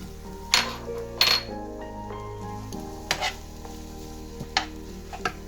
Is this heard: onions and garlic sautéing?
yes